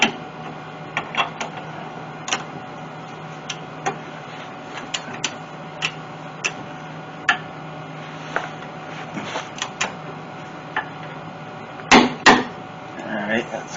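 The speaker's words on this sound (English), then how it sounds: "now I torque these down" A wrench tightens shackle bolts on a 1997 Ford Explorer's rear shackle lift kit, giving sparse sharp metallic clicks and ticks spread irregularly over a quiet workshop background, with a brief louder clatter near the end.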